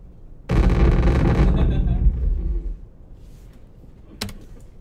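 An explosion sound effect layered into a story project in Adobe Audition: a sudden loud booming blast with a rumbling tail that fades over about two seconds, followed by a faint sharp pop.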